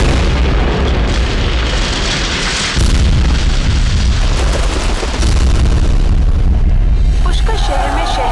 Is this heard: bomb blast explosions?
yes